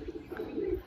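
Pigeons in a home loft collection coo nearby in short, low, pulsing murmurs that run together into a brief continuous burble.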